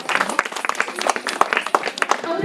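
An audience at a 2023 World Menstrual Hygiene Day event in Niali applauds a third-prize winner with brisk, uneven claps, while a voice talks over the clapping.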